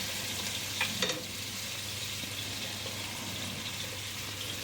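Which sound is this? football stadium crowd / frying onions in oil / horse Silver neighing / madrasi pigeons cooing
frying onions in oil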